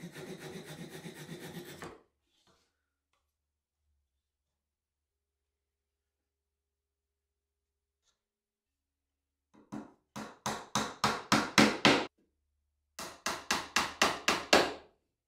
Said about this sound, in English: I'm going to cut some batten down, fix it about halfway up either side so a shelf can rest on it.